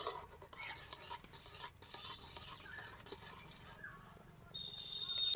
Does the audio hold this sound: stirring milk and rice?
yes